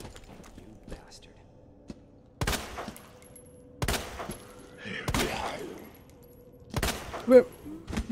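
Sharp isolated gunshots in Resident Evil 2 Remake inside the Umbrella lab, four or five loud cracks spaced a second or so apart over a quiet background, with someone speaking softly between them.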